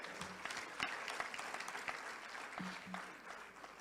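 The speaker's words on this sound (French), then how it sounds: "Applaudissez pour nos aînés qui l'ont fait." Applause from a church congregation at an International Women's Day celebration of the Celestial Church of Christ, a steady mass of clapping lasting several seconds with a few louder individual claps standing out.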